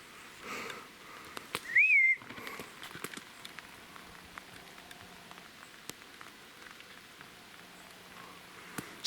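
Steady rain patters in a forest throughout, a soft broadband hiss with scattered drop ticks, and a brief whistle-like tone early on.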